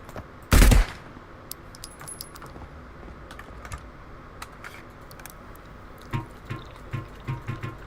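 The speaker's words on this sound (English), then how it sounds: "more gunfire" One loud, sharp burst of gunfire, then a string of fainter, scattered shots and clicks from the video game Marauders.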